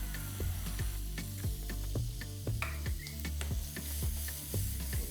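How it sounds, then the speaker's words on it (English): Bell peppers and onions sauté in a pan for a Cajun chicken sandwich, giving a steady, fairly quiet sizzle with frequent clicks of stirring and no talk. "Saute these up real quick."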